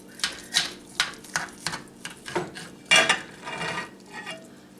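A serving spoon scoops potato casserole from a dish, producing a series of separate scrapes and clinks in an uneven rhythm, close and fairly clear, with no talk.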